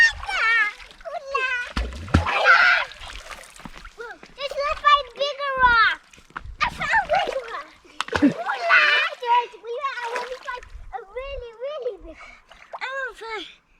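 Children chatter and call out excitedly while pebbles thrown by hand plop and splash into water now and then beneath their voices, in the Belgian Ardennes.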